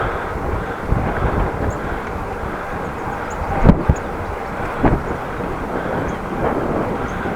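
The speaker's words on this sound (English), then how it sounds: "Wind from the front." Constant rushing headwind buffets the microphone while cycling through Groningen, a dense low roar with a few brief gusty bumps and no talk.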